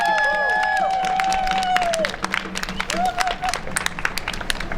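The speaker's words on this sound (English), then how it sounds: "Everybody, please give them a round of applause." A protest crowd outside the Canadian consulate in Denver breaks into applause, scattered claps over steady clapping with a few whoops, while a voice briefly calls out over the noise at the start.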